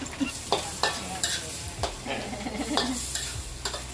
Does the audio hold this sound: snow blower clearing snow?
no